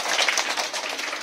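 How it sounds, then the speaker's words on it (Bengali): A crowd at a magic show gives a short burst of loud, dense clapping, close and continuous. "একবার জোরে হাততালি দাও।"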